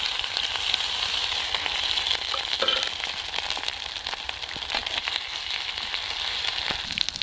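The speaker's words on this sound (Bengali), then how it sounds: "পেঁয়াজের বাটা দিয়েছি আদা রসুনের পেস্ট দিয়ে দিচ্ছি" Onion paste with ginger garlic paste frying in hot oil alongside a bay leaf, a dense continuous crackling sizzle with small pops throughout, loud and close, no voices.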